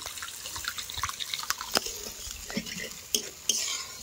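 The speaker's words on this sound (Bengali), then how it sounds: "এবার আমি জল দিয়ে দেবো একটু" A little water is poured into cooked fish-curry masala in a pan, giving a wet splashing sizzle mixed with spoon clinks and stirring scrapes, close up, with a couple of sharper knocks near the end.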